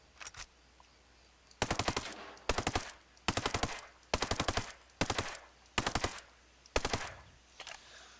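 Assault rifle fire in the shooter game Ghost Recon Breakpoint, about eight sharp full-auto bursts of several rounds each separated by short pauses, crisp and close with no talking.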